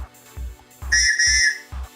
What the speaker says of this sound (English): On my pack, I'll carry a whistle.